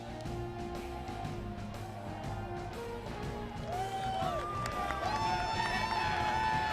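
A baseball stadium crowd at a World Baseball Classic game between the Dominican Republic and Venezuela keeps up a steady, loud roar, with rising tonal whistles or horns cutting through over the final seconds.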